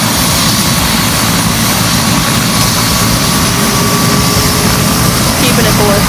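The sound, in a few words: Bell 206 Long Ranger helicopter turbine engine rolling up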